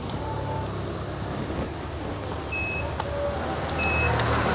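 An electronic oil tester reads engine oil from a 2015 Daihatsu Sirion hatchback and gives off a few short, high electronic beeps. One beep is heard alone, then a quick pair follows, over a quiet steady background hiss.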